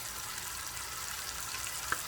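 Porterhouse steak fries in butter in a pan with a faint, steady sizzle and one small pop near the end.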